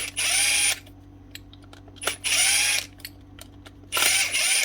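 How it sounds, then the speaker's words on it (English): A power drill, one of a batch of broken Makita, Hilti, Bosch and Dewalt tools under repair, whirs loudly in three short bursts with clicks and quiet gaps between, close by. "As drills go, these are actually a good wee drill, just as long as you didn't use hammer mode."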